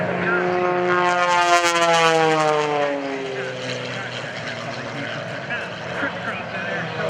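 Blue Angels jets at an airshow roar loudly overhead while climbing into the vertical. The sweeping engine tones rise then fall away, and an announcer speaks over the noise.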